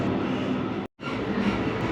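Steady rumble heard from aboard a Brightline passenger train between Miami and Orlando, Florida. The rolling noise of the carriage is broken by a very brief silent gap, then carries on evenly. No one speaks.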